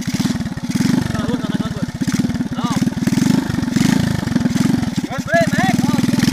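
A motorcycle engine runs throughout, idling with a steady rapid putter and a few throttle blips, loud and close, while people talk and joke over it.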